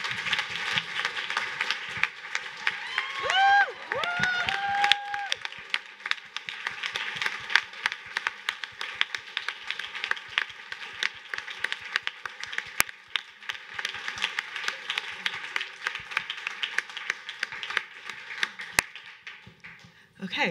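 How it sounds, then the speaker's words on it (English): Audience at a Science Hack Day event in San Francisco applauding at length, a steady spread of clapping with scattered sharper claps and brief whoops near the start, fading slightly toward the end. "I'd like you to give her a big round of applause"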